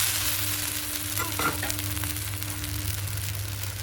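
Onion dosa frying on a pan over a wood-fired stove gives a steady, close sizzle with a low hum underneath. It runs without pause and has no talking over it.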